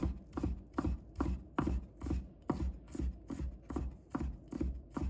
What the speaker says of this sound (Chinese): 再准备1块去皮的生姜，把它切成片， 再切成丝，